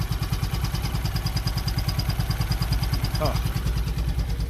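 A freshly started engine idles with a steady, rapid, lumpy pulse, close and constant throughout, while a brief vocal murmur cuts in near the end.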